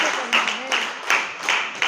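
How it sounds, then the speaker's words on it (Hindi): Audience at a farmers' meeting clapping for a retailer called up on stage, a short burst of applause in uneven waves with speech overlapping. "आप सबकी जोरदार तालियों में।"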